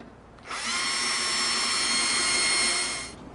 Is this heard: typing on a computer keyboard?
no